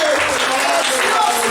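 Congregation applause during a church service, steady dense clapping throughout, with a voice speaking over it and a faint tonal line running underneath.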